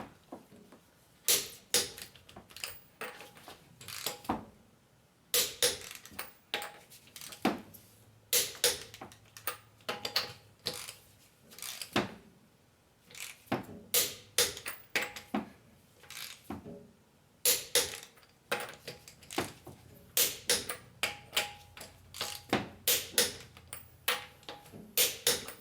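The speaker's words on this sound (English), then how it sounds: "Alright, so now we're gonna torque the lug nuts." A torque wrench clicks sharply in repeated bursts while lug nuts are tightened on a Ford Freestyle wheel during a brake and tie rod job, the ratcheting ticks coming in quick clusters separated by short pauses.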